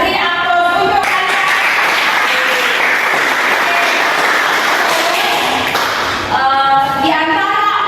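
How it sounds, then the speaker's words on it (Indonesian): Students in a classroom clap together for a finished group discussion, a steady burst of applause lasting about five seconds between stretches of a teacher's talk. "Beri aplaus untuk kalian."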